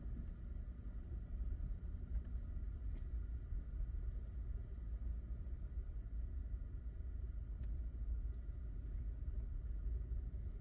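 A car creeps slowly along an unpaved gravel road through a cemetery, making a low, continuous rumble of tires and engine, steady and moderately quiet throughout, with no voices.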